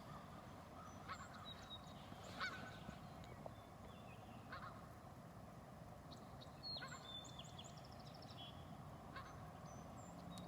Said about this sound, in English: Listen to those beautiful birds chirping in the background